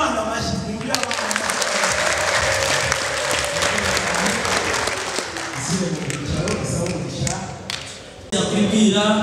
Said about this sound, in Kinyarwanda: Imana amashyi twumve abana.